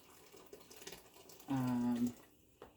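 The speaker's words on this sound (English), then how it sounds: "Just rinse this cup." A cup rinsed under a kitchen tap, a short half-second burst of running water splashing close by, preceded and followed by faint clinks and room noise, with no talking.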